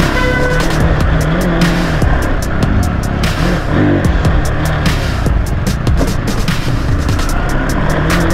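Engines of a group of motorbikes rev and roar in a traffic jam on a ride from Solan to Chandigarh, loud and continuous for the whole stretch, with sharp bursts and a dense vehicle rumble beneath.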